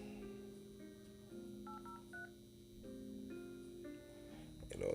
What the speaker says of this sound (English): Gonna make a phone call to one of my insureds.